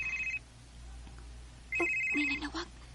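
A cellphone rings with an incoming call, a close, clear electronic ringtone that sounds once, pauses, then rings again with a louder melodic burst, over a quiet room hum.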